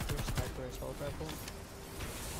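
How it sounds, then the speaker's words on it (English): Bursts of assault rifle gunfire crackle in a shooter video game, several quick volleys early on then thinning out, with a player's voice talking over them. "Assault rifle."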